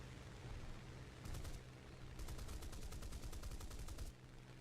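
Rapid bursts of aircraft machine gun fire rattle in two runs in a video game, the second longer, over a constant low engine-like drone.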